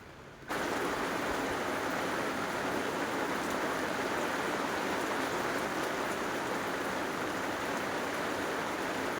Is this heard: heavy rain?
yes